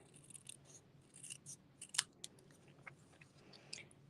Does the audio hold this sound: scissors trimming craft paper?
yes